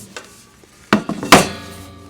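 A Selby lift-up coffee table mechanism is flipped over on a workbench, giving two or three close, hollow wooden and metal clunks after a quiet start, then a fading rattle.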